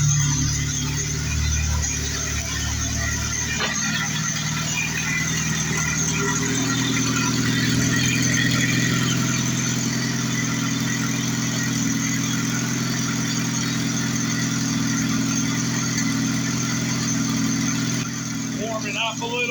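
A car engine idles steadily just after its first start-up with a new AEM oil gauge fitted, a loud, even rumble sustained throughout while someone talks over it.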